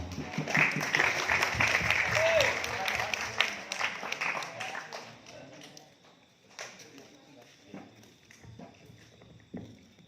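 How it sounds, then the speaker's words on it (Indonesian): Students and guests at an Islamic boarding school competition clap in a burst of applause that fades after about five seconds, leaving scattered claps and footsteps under voices. "tepuk tangan untuk kita semua"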